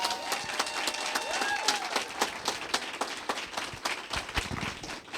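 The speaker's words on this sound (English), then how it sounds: "give a round of applause to everyone from the fire department" Scattered clapping from an outdoor crowd gives a round of applause for fire department members, sounding fairly distant and uneven, mixed with crowd noise and a few whistles.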